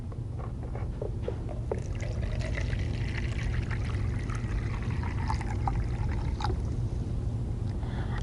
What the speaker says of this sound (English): You want to pour it evenly over the whole container.